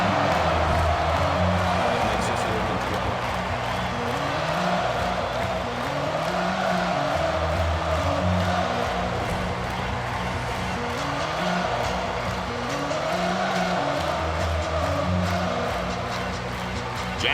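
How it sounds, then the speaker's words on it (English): Stadium crowd at a Penn State versus Michigan college football game, a steady dense roar of cheering voices that swells and dips, with a low rhythmic drumming pulse beneath it. "This crowd is amazing."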